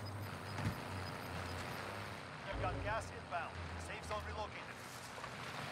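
An armored truck rumbling along in Call of Duty: Warzone, its low steady engine drone running under game effects and the talk of several players, moderately loud and continuous.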